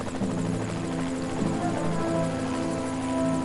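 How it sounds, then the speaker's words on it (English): A helicopter in the video game Evil Genius gives a loud, steady rotor drone with a throbbing hum that holds evenly from start to finish, with no talking. "we are disembarking from our helicopter in proper Evil Genius style"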